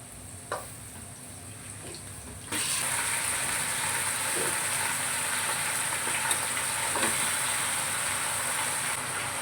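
Two kilograms of mutton head meat hit a pan of hot onions and break into a loud, steady frying sizzle and hiss that runs on without pause after a quieter start.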